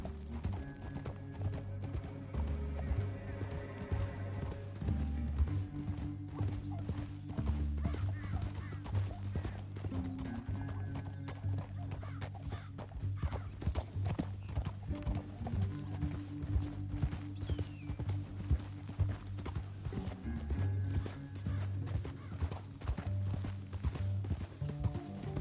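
Horses gallop in a Western canyon chase, a fast steady clip-clop of hooves running throughout alongside low rumbling and an occasional whinny, fairly faint and continuous.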